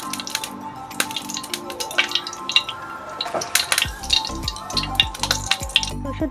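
Mustard oil heats in a frying pan before spices go in for a hilsa mustard curry, giving a light sizzle with sharp crackles and pops, mixed with faint clatter and low humming tones nearby.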